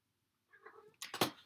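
Kitten meowing close by in an indoor studio, a soft brief mew followed by a louder, sharper meow, with quiet room tone before it.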